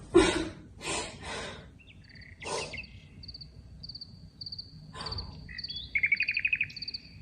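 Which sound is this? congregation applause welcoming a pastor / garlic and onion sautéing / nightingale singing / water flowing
nightingale singing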